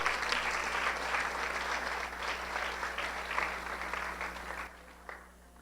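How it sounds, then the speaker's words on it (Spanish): A church congregation claps steadily in a dense, sustained round of applause that fades out near the end. "Dele un aplauso al Señor entonces."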